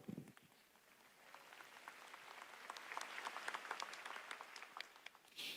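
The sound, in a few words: audience applause at tech keynote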